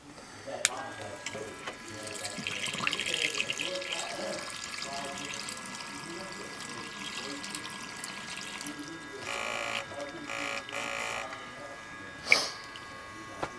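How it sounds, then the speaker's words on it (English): A small HVAC condensate pump moves water out of a drain pan, giving a steady close-up flow of running, splashing water with a few sharp knocks and bumps along the way. "Well, you can see that little pump does a good job."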